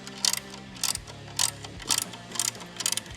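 A ratcheting wrench tightening a bolt on a Harley touring motorcycle's mid-frame air deflector, with six short bursts of rapid metallic clicking close up and brief pauses between strokes.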